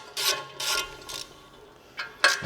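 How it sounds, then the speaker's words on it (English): A hand ratchet loosens the alternator cover bolts under the hood of a 2004 Subaru STI, giving short bursts of quick clicking with brief pauses between them, close and moderately loud. "So it's as easy as taking out a couple bolts."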